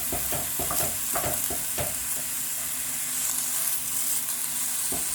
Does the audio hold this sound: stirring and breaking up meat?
yes